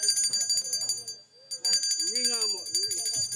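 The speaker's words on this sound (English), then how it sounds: "what really indicates the start of Christmas season is the ringing of the Salvation Army kettlebells" Salvation Army kettle bells ring at the launch of an annual kettle drive in a park, a bright, steady jingling that pauses briefly and resumes while someone talks over it.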